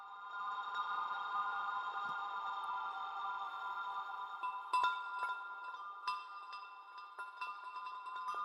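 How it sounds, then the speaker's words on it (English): Long, sustained chime tones ring with shimmering overtones, shaped by an auto filter and a huge ominous reverb tail, with occasional brighter strikes cutting through a steady wash for several seconds. "this is basically a very long recording of chimes"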